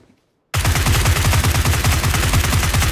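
Rapid automatic gunfire in PUBG, PlayerUnknown's Battlegrounds, erupting after half a second of silence and continuing loud and dense in a steady stuttering burst to the end.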